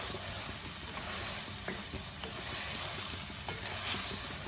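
Sem beans and dried shrimp curry with coconut cream are stirred in a pan, a low, steady sizzle with soft scraping strokes and a few light clinks, fairly quiet and close.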